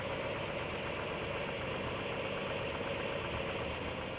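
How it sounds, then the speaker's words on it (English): A 1961 Mercury Comet engine idles steadily, a continuous close mechanical drone with a faint ticking texture that holds at one even level throughout, with no voices. "Let's take a look at the engine. Sounds good to me."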